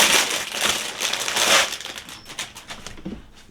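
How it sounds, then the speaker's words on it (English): Plastic packaging of craft ribbon for a St. Patrick's Day wreath is torn open by hand: a dense burst of loud crinkling and crumpling that thins out into a few scattered crackles. "let me rip this open"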